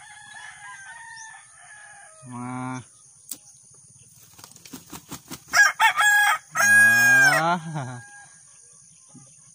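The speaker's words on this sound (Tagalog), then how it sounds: "Yun ang manok." A fighting-cock rooster crows loudly nearby in a backyard while hens cluck in short bursts, with a few spoken words mixed in.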